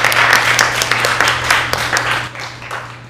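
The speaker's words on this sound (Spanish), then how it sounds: "otro aplauso para ustedes" Audience applause in a hall, a lively burst of many hands clapping that gradually tapers off toward the end, over a low steady hum.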